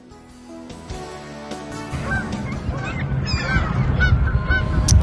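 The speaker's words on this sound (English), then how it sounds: "Seagulls having their way." Seagulls call on a gray winter day on the Ohio North Coast shoreline, a flurry of overlapping honking cries growing louder and busier over about five seconds, with no talking.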